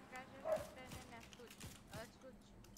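Dogs bark outdoors at a distance, several short yips and woofs spaced across the moment, faint and mixed with a person talking nearby.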